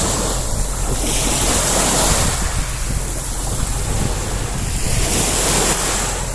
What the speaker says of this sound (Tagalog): sobrang ganda ng dagat